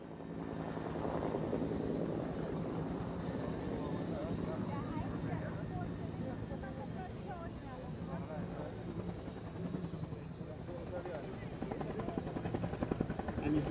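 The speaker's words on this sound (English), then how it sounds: "a derived variant of the famous UH-1 helicopter which gained fame with the US Army in Vietnam, also thanks to its very characteristic sound" Onboard cabin sound of an AB-212, a derived variant of the UH-1 helicopter, at an airshow in Malta: a steady, loud, dense rotor and turbine drone with a low rhythmic thump, continuous throughout.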